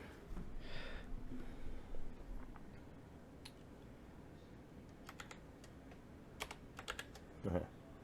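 Computer keyboard typing, scattered key clicks and short bursts of taps, close and fairly quiet against a low background hum.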